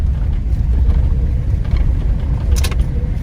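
A truck rolls along a narrow road through timbered land, its low engine rumble and tyre noise steady and close throughout, with a brief rattle near the end and no voices.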